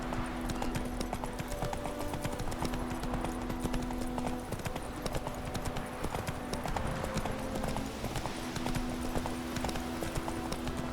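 Roach, the horse in The Witcher 3, gallops with steady, rapid clip-clop hoofbeats throughout, close and even in rhythm over a constant background bed of game sound.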